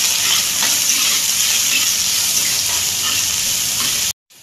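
Idli pieces with onion and capsicum frying in a pan, a close, loud, steady sizzle with stirring scrapes, cutting off abruptly near the end.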